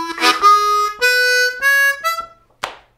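A blues harmonica lick over the one chord of a 12-bar boogie blues, opening on the 2 draw. A handful of sustained, reedy notes step along one after another, then a brief final blip, played alone and close with no talking.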